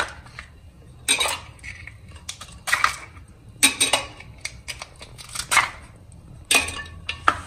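Ice cubes clink and clatter into a glass of jaljeera drink, several sharp bursts of knocking spread irregularly across the moment, close and alone without talk.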